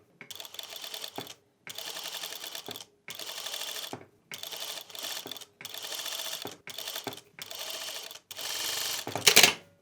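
Sewing machine stitching along a fabric seam line in a run of about eight short motor bursts, each roughly a second long with brief pauses between, the last burst slightly louder.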